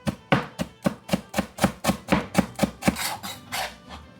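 A knife chops fresh cilantro on a cutting board in a steady run of about fifteen crisp, evenly spaced strokes, close and clear, speeding up slightly toward the end.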